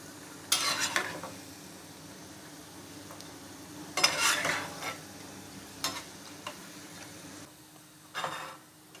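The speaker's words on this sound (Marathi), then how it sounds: "आचेवर ही भजी तळायची आहेत" Onion bhaji frying in oil over a medium flame, a low steady sizzle broken by several short bursts of crackling and scraping, close and alone.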